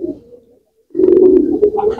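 Low, throaty pigeon cooing, a soft call first, a short pause, then a louder sustained burbling coo close by.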